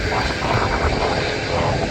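An Emirates Airbus A380, a four-engine double-decker airliner, arrives at Manchester Airport with a loud, steady broadband engine roar that fills the whole stretch, while people talk underneath.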